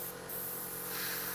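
Steady, continuous hiss of a spray can applying a thick coat of glossy varnish to a 1/48 scale model aircraft, close and even for the whole moment with no pauses.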